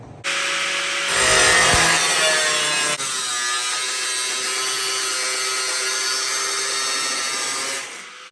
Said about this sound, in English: I just cut this piece off to fix this gap